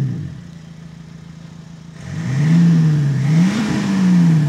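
BMW X5 3.5d diesel fitted with a Maxhaust sound kit, quiet at first, then the engine starts and revs up loudly in two close swells before settling into a rumbling idle.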